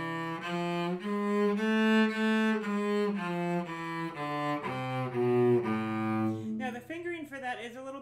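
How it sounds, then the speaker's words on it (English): A cello plays a one-octave A harmonic minor scale in clear, sustained bowed notes stepping evenly, followed by a short spoken phrase at the end. "So the harmonic minor scale sounds like this."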